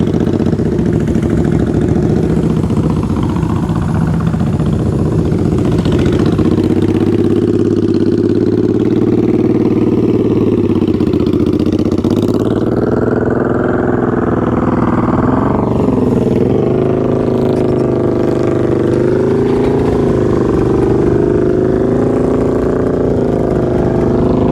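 A motorcycle engine idles close by for a long, loud stretch, its pitch rising and falling as the throttle is blipped and revved several times, then settling back, with no talking over it.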